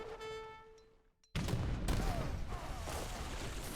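Light cannons and great bombards fire in a strategy video game battle: after a quiet, fading stretch, a sudden loud burst of artillery erupts and continues as a dense, rumbling barrage.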